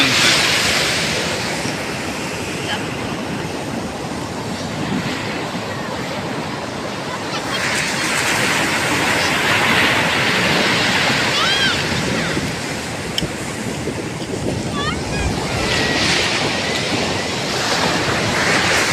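Sea waves break and wash continuously onto a beach, a broad roaring surf with gusts of wind buffeting the microphone, steady and fairly loud throughout with no voices.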